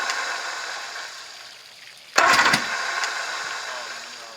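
An outboard motor on a 1984 Grady White Overnighter 20 boat catches and starts, a sudden loud burst at close range after quieter background, then settles into a steady running drone.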